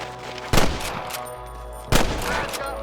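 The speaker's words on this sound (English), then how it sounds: "I can hear more gunshots." Two loud, sharp gunshots crack about a second and a half apart in the Western video game Red Dead Redemption, each with a brief echoing tail over a steady low background.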